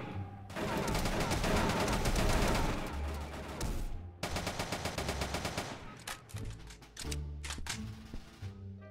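Automatic gunfire in the video game Broke Protocol during a U.S. versus Vietnam military battle, with long dense bursts, then rapid rhythmic volleys and scattered single shots, loud and close.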